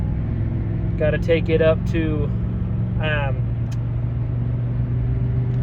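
Truck driving, a steady low engine rumble and road drone continuing throughout, with voices talking over it in a few short bursts.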